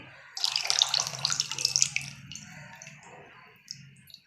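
Water is poured out of a container after being squeezed from a sanitary napkin, a splashing, gurgling stream that runs loud for about two seconds and then trails off into softer drips and trickles.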